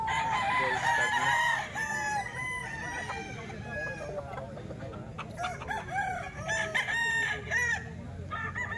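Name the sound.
rooster (stag) crowing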